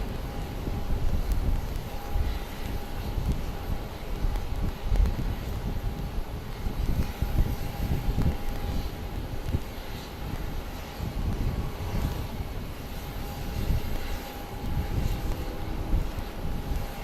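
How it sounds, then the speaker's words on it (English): Steady wind buffeting a camera microphone outdoors at Phoenix Sky Harbor airport around sunset, a constant low rumbling roar filling the whole stretch with a faint tonal hum above it and no speech. "This wind is literally shaking my camera"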